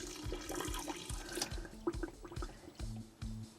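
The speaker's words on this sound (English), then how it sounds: "This is our normal pace of draining." Hot water gurgles and drains steadily down an unclogged caravan sink, a continuous close rushing and bubbling sound with small glugs throughout.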